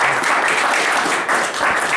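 A crowd at an animal shelter award ceremony claps in steady, dense applause that fills the whole moment, loud and close, with no talking over it.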